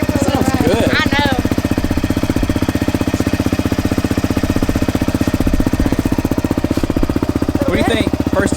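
A Honda CRF125F dirt bike engine fitted with an FMF exhaust idles loudly and steadily at close range with a rapid, even thumping pulse, while voices talk briefly over it near the start and end.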